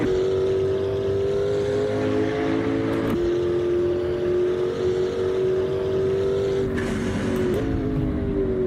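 A high-revving McLaren P1 engine in Assetto Corsa drones steadily with a rising pitch, briefly dipping at gear shifts, loud and close throughout.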